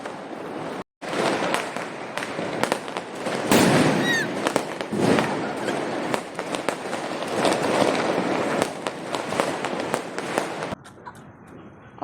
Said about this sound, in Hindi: सारे पटाखे मैंने जलाए।